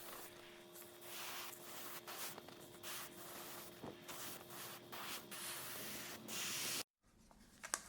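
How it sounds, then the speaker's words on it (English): An airbrush sprays black dye onto leather pauldrons in a steady, faint hiss, broken by short pauses and bursts as the nozzle moves, close by and quiet. "Next, we use the airbrush with some black to darken everything, and we go in a low angle to create some shadows."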